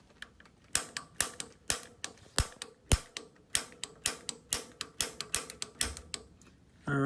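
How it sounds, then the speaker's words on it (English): Repeated sharp clicks from the piezo igniter switch on a Rheem gas water heater's control valve, about a dozen snaps at a steady pace, close and loud with no talking. "you will begin to press the piezo switch"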